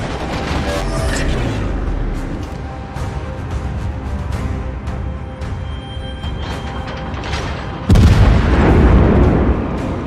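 Main guns of the battleship Scharnhorst in a naval warfare game fire in heavy booming salvos amid crackling battle noise, with a loud, close blast near the end.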